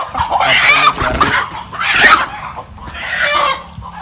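Village chickens cluck and squawk in agitated bursts, three loud rising calls close by with scuffling and rustling beneath.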